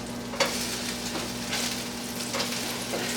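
Battered Monte Cristo sandwich of meats and cheese frying in a pan, a steady close crackling sizzle with occasional louder pops, no voices.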